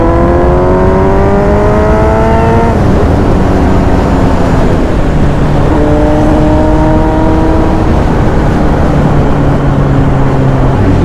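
A motorcycle on an open highway road trip with the throttle opened, its engine rising in pitch through repeated revs and gear climbs over steady loud wind rush.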